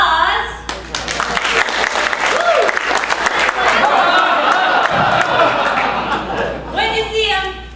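A theatre audience rehearses its applause, a dense wash of clapping mixed with cheers, laughter and chatter that swells and holds for several seconds, dipping briefly before a final burst.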